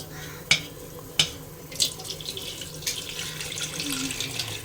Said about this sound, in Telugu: చింతపండుని ముందుగా కడిగేసుకుని నీట్గా నానబెట్టేసుకుందామండి.